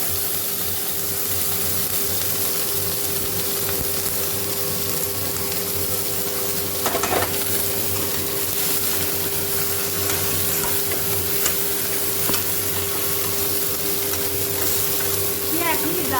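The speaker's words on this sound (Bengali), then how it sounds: "মশলাটা আবার ভাজছে" Masala being fried in a pan for chicken curry sizzles steadily throughout, a constant hissing crackle with occasional stirring scrapes, accompanied by a faint steady hum in the background.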